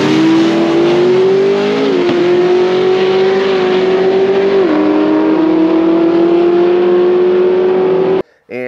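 A drag race car makes a quarter-mile pass, its engine a loud, steady high-rpm roar held the whole way with brief shifts in pitch, then cutting off abruptly near the end.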